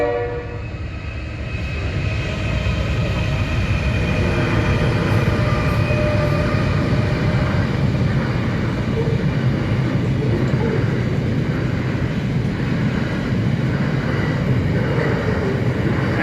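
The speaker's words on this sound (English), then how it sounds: "these trains just go on and on and on" A long train rumbles past nearby in rural Australia, a continuous heavy rolling roar with a horn note at the start and wheels clattering on.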